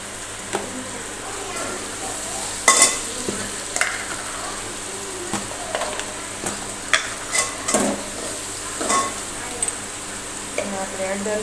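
Tomatoes sizzling in hot oil in a pan, a steady frying hiss with intermittent scraping and clinks of a spatula stirring, close and moderately loud.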